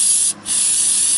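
Aerosol cleaner hisses loudly into the carburetor of a 2018 Hawk 250 Chinese enduro dirt bike, close up, in two sharp bursts with a brief gap between them.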